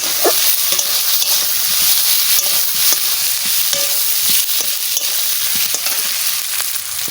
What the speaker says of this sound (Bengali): এবারে আলুটা দিয়ে দিচ্ছি একসাথে কষাই নেব